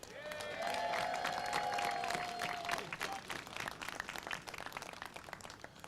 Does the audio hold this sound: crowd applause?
yes